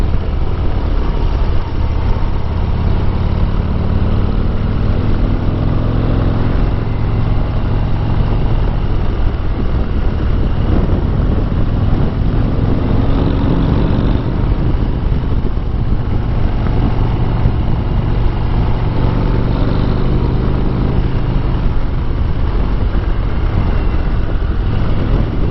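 A Harley-Davidson Road Glide motorcycle carries its rider through tight mountain switchbacks, its engine droning steadily and loudly throughout, blended with constant rushing wind noise and no speech.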